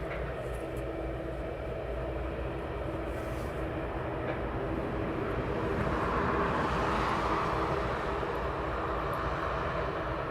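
At East Midlands Airport, a turboprop or propeller aircraft taxis at a distance, a steady low droning rumble with a broad hiss that swells slightly midway.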